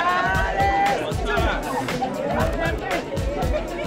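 A crowd gathered in Washington DC to see the film Diary of a Tired Black Man fills the space with overlapping chatter and babble, with nearby voices talking clearly above the steady hubbub.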